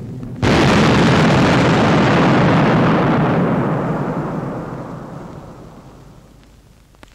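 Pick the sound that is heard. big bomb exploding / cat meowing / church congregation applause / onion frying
big bomb exploding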